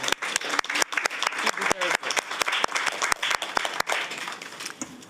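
Audience applause at a Board of Education business meeting, a room of people clapping with sharp, distinct claps in an irregular rhythm that thins out toward the end, with some voices mixed in underneath.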